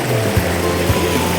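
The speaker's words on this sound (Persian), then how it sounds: "صدای آب خیلی لذت بخشه." River water rushes steadily beside a path near Afjeh village, a close, continuous broadband wash with faint low thumps beneath it.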